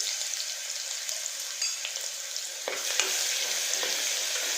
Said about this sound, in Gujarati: તો આપણે આ અધકચરું વાટેલું આદુ અને લસણ નાખીશું